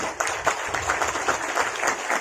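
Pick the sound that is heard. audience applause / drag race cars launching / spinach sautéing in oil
audience applause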